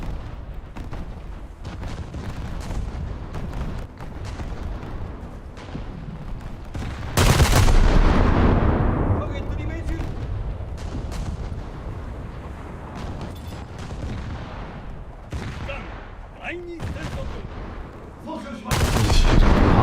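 Naval battle in an online war game, with repeated heavy cannon fire and explosions booming over a dense, rumbling background, including a loud blast near the middle and another at the end; a voice talks faintly at times.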